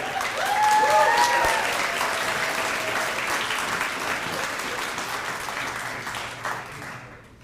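Loud, dense clapping from the audience at a multicultural graduation celebration, peaking near the start and gradually thinning out before fading away, with a faint voice briefly over it.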